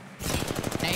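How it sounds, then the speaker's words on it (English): Rapid automatic gunfire in the Apex Legends battle royale game, a dense run of quick evenly spaced shots that starts after a brief quiet moment and holds steady and loud until the end. "Keep shooting left."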